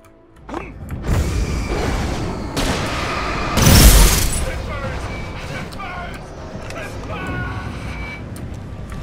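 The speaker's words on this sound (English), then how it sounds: "Take the flare gun to him." A flare gun is fired in the Alan Wake video game, giving one loud, sharp burst partway through a busy stretch of in-game clatter, rumble and mechanical noise.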